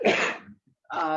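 A single sharp sneeze bursts out close by during a board of directors meeting, followed after a brief pause by a short voiced exhale or murmur.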